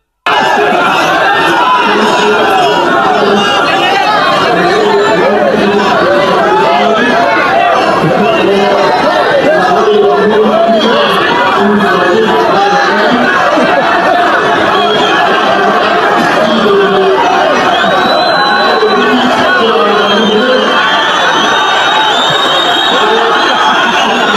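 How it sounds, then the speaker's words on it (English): A hostile crowd in Kenya mutters and chatters in a loud, continuous murmur of overlapping voices, with scattered coughs and bits of laughter across roughly twenty-four seconds. "trying to address a hostile crowd"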